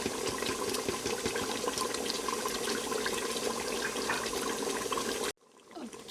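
A cup of water pours into a pot of cooking chicken for a pulao yakhni, a steady splashing rush lasting several seconds that cuts off abruptly, followed by faint quiet clatter.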